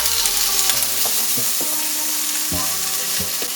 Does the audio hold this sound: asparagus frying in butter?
yes